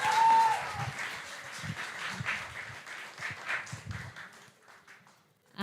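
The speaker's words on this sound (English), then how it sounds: "Let's give him a big round of applause." Audience applause at a talk event, a broad sustained round of many hands clapping in a hall that fades out near the end, with a brief tone at the start.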